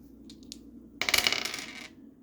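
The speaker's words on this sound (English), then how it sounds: "We gotta roll the dice now." A die clatters and rattles across a hard surface in one quick burst, a few small light taps first, then a bright rolling clatter fading out after about a second.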